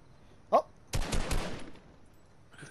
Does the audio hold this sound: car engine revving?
no